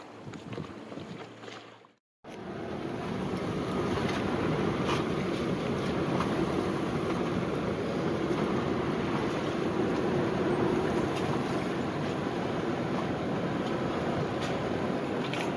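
Steady loud rush of wind and water slapping against a boat hull at anchor off Rock Sound, Eleuthera, continuous and close, with a brief dropout near the start.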